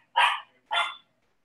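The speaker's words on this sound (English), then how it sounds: "That's my dog." A dog barking twice, two short, clear barks about half a second apart, close and alone with nothing else around them.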